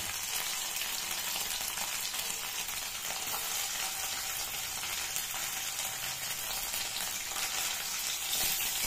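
Pieces of chhana (cottage cheese) fry in hot oil, producing a loud, continuous, close hissing sizzle that stays steady throughout without voices.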